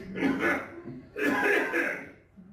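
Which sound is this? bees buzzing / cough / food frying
cough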